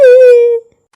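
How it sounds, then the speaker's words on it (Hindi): A child lets out a single sustained, high-pitched wail lasting about half a second, loud and close, then cuts off abruptly into silence. "बच्चे की रोने की आवाज आ रही थी"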